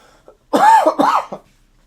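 A single close cough with a harsh, raspy burst followed by a shorter second hack, then quiet.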